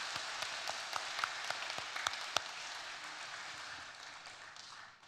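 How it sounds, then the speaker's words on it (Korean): A church congregation gives the children a round of applause at a Sunday worship service: steady, dense clapping with a few sharp individual claps standing out, holding even and then fading out toward the end. "우리 큰 박수 한번 쳐주시기 바랍니다"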